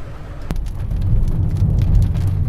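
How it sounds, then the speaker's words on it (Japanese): Heavy rain falling around a car on a drive from a hot spring resort, a steady low drumming roar that builds slightly, with one sharp tap near the start. "本当に車に乗る瞬間にですねこれだけ雨が降ってきまして"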